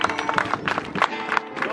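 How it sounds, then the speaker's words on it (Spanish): A church congregation applauds during a Christmas Eve service, uneven bursts of hand clapping with a crowd murmur and voices mixed in, fairly close and lively. "Démosle un aplauso al Señor."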